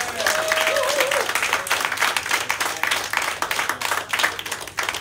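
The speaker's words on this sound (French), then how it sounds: "On peut les applaudir, s'il vous plaît" A concert audience at Le Ferrailleur in Nantes, France, claps and applauds steadily for several seconds, dense and continuous, with a brief tone sliding through early on.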